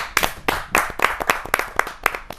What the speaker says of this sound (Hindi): आपकी जोरदार तालियां मिले